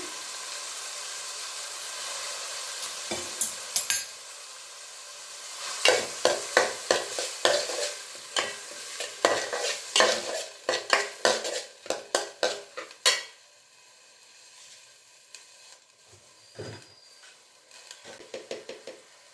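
Raw green peas frying in oil in a pan for aloo samosa filling, with stirring scrapes and utensil clatter over a soft background sizzle, busiest in the middle and quieter toward the end.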